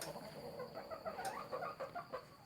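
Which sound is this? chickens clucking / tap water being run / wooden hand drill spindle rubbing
chickens clucking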